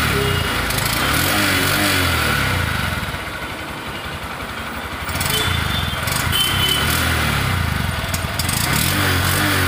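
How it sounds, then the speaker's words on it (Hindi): A Honda SP125 BS6 motorcycle idles with its exhaust running close by. The engine note is a steady, continuous drone that dips briefly in the middle before settling back to the same level, with no talking. "इस बाइक का एग्जॉस्ट रोड आपको सुनाना चाहूँगा।"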